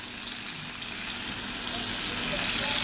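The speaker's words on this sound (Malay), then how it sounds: "lepas tu letak air" Water is poured into a pot for fish curry, a steady close gush of liquid running for a few seconds.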